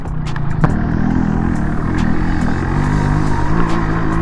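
A Yamaha RX-135 five-speed two-stroke 135cc motorcycle engine runs loudly and steadily up close, a continuous buzzing drone with slight fluctuations and no speech.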